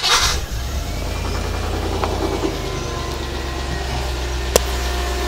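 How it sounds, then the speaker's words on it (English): A Land Rover Discovery engine, recently overheated and fitted with a new radiator, cranks and catches, then settles into a steady close idle with a low rumble, one sharp knock near the end, no voices. "Now I need to figure out what that knocking sound is."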